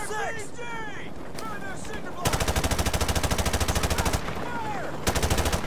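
Rapid automatic gunfire rattles in loud sustained bursts during a Call of Duty Modern Warfare Remastered match, close and harsh, after a stretch of chirping effects, with a player talking.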